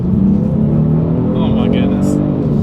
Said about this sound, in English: Let's see how quickly we can get the G70 here up to speed